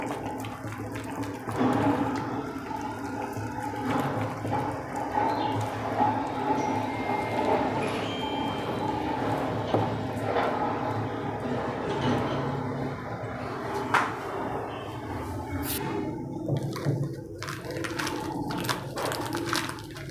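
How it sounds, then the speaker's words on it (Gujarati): Flour dough with washed fenugreek leaves and onion kneaded by hand as water is added little by little; a steady close wet squishing and watery sloshing that runs on throughout. "આવી રીતે ધીમે ધીમે પાણી નાખી અને લોટને બાંધી લઈશું"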